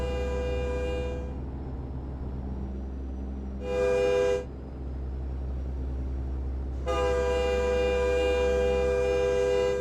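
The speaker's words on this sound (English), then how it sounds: "Train somewhere. Oh, they're way out there." A distant train horn sounds in the night, heard from inside a truck cab over a steady low engine rumble: one short blast, then a second, and a longer final blast after a pause.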